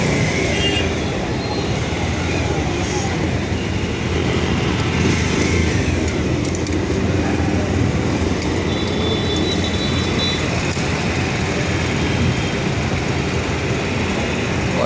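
Steady, loud road traffic surrounds a stopped vehicle stuck in a jam, a dense continuous roar of engines with occasional revving and faint horn tones, no talk.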